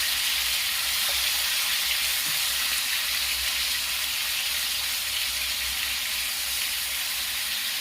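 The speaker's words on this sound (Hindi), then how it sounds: "तेल अच्छी तरह गर्म हो जाएगा तो पनीर को मैं फ्राई करूंगी" Paneer shallow-frying in hot oil over a high gas flame, giving a loud, dense, unbroken sizzle that holds steady from start to finish.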